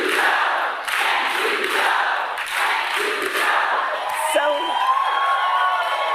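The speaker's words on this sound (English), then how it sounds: "he received a wonderful reception from the crowd at this event" A crowd at a Joe Biden political rally cheers loudly, a sustained roar of whoops and yells mixed with scattered voices throughout.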